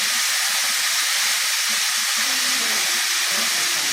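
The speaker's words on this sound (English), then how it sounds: "Getting a nice sizzle on." Beef burger patties sizzle on a hot grill, a loud, steady close-up hiss that fills the whole stretch, with faint low knocks underneath.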